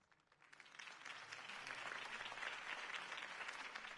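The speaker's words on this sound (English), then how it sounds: "could have heard that applause" In Batman: The Telltale Series, crowd applause swells up from quiet and holds steady, a dense wash of many hands clapping with no voices on top.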